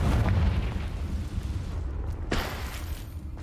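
A Confringo fire spell explosion in Hogwarts Legacy opens as a loud rumbling blast that slowly decays, followed by a second sharper burst near the end.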